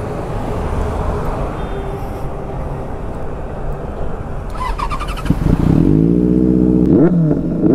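A Benelli 600i motorcycle fitted with an SC Project exhaust idles with a steady, loud rumble, then revs up sharply near the end in a couple of deep, rising blips that stay loud.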